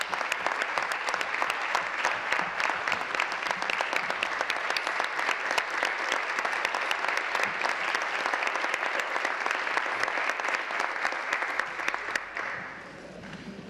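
Members of the Ontario legislature applaud during Question Period, sustained dense clapping that fills the chamber for over twelve seconds before tapering off abruptly.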